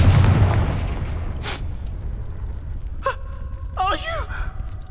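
A Confringo blasting spell erupts in Hogwarts Legacy with a loud, booming burst right at the start that decays into a rumbling tail, followed by voices talking and a sharp exclamation.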